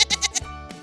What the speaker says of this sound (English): And what sound does a goat make? A goat bleats.